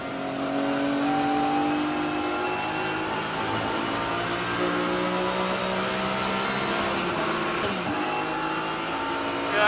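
A car with a sequential gearbox accelerates uphill. The engine note climbs steadily and loudly over several seconds, with a brief dip near the end as a gear is taken.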